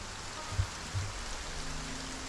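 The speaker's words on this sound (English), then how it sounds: "Heavy rain." Heavy rain in the video game Project Zomboid pours as a dense, steady broadband wash, with two soft low thumps early on and no voices.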